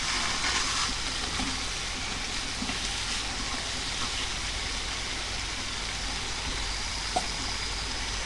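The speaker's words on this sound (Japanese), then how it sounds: "生揚げの塩炒め。" Thick fried tofu (Sagamiya nama-age cut into triangles) stir-frying with salt in a pan, a steady close sizzle and crackle with occasional stirring scrapes throughout, no voices.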